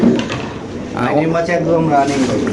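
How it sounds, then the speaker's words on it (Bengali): White beauty pigeons at a market stall cooing in low, repeated burbling calls, close by, with someone talking over them. "এখানে আছে একদম সাদা বিউটি কবুতর"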